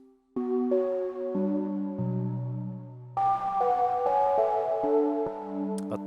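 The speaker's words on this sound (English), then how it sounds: "We can try to modulate the filter a little bit with the noise." Oberheim TEO-5 synthesizer tones with a hissy, noise-modulated filter, holding steady notes that shift in pitch in stepped changes, alone and fairly loud.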